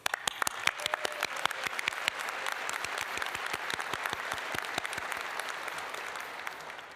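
A large crowd at a veterinary medicine commencement ceremony applauds, dense sustained clapping with sharp individual claps standing out, steady and even from start to finish.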